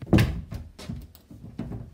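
Indoor room door pushed shut in a house: one solid thump at the start, followed by a few softer knocks and rattles, close by with no talk.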